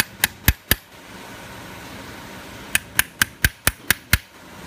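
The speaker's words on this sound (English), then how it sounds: "the more of your hammer force goes into actually putting an impression into the brass" Sharp hammer taps drive a chasing tool into a brass thumb latch button as a weave design is hand chased, a few separate blows first, then a steady run of six or seven evenly spaced strikes, close and crisp over a quiet room.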